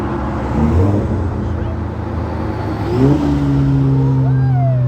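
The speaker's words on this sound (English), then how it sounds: "That's the best sounding Porsche motor." A Porsche sports car engine idles then revs up sharply, its pitch climbing and holding in a loud, throaty drone close by.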